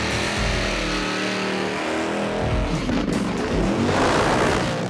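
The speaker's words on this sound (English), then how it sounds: "He didn't know he was doing a burnout." A drag race car from street racing roars through a burnout, a loud, continuous engine howl with tire noise that swells toward the end and plays alone without voices.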